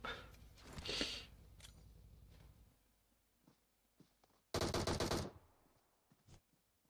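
An M249 squad automatic weapon fires in a battle-royale video game, in two loud sustained bursts of rapid automatic fire with a quieter stretch of scattered shots and faint clicks between them.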